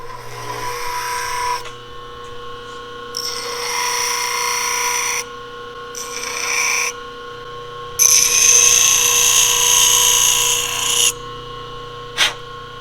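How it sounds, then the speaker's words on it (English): Grinding bursts from a power tool, likely sharpening a soapstone marker during a cabin handrail build, come in several loud, harsh stretches of a few seconds each with short gaps between them and a brief sharp tick near the end. "I got to sharpen my soapstone."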